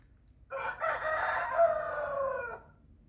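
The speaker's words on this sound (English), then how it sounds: "like the chickens and roosters are competing from neighbourhoods" A rooster crows loudly nearby in rural Thailand, one long drawn-out call of about two seconds against a quiet background.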